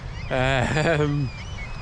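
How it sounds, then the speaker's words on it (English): A seagull lets out one loud, nasal call lasting about a second, close by against a quiet outdoor background. "loads of seagulls shouting at me."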